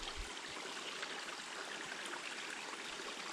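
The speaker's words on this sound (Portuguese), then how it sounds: "Parece que fizeram aqui até um localzinho para captação de água, né?" Water trickles steadily into a small catchment basin on a sloping rural property, a soft continuous rushing and babbling, faint and close, with no talking.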